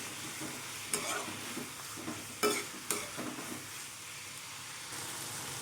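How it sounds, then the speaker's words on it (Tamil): Cashews sautéing with tomatoes in a pan for paneer butter masala, a soft steady sizzle with a few sharp scraping stirs of a spoon, close and fairly quiet. "இப்போது முந்திரி சேர்த்து ஒரு மூ நாலு நிமிஷம் நல்லா வதங்கட்டும்"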